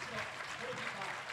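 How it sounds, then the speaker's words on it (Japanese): Steady, faint applause fills the air as players walk out for a Japanese JFL football match between FC Maruyasu Okazaki and Honda FC, heard from a distance as an even, continuous crowd texture. "皆様大きな拍手でお迎えいただいております。"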